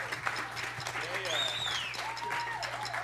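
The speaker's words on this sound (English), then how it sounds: "give him a round of applause" Applause from a crowd at a tribute music show, steady and moderate beneath talk and a tonal hum, with a voice rising and falling over it.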